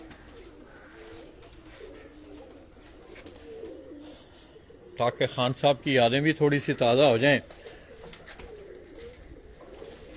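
Pigeons of a fancy flying breed coo softly in a loft, their calls rising into a loud, rolling burst of cooing partway through, while someone talks over the birds.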